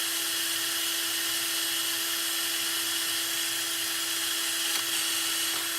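A steady, high-pitched power drill whines continuously with no pauses while drilling into a holiday tray, close and fairly loud, with no talking.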